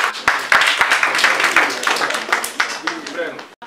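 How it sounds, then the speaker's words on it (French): Audience applause at a ceremony for World Habitat Day hosted by a social housing fund, steady claps filling the room while an announcer's voice carries over them. "Sous vos applaudissements, mesdames et messieurs"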